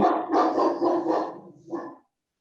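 A dog barks several times in quick succession at close range, the barks loud and clear with no talking over them, then a shorter final yip before silence.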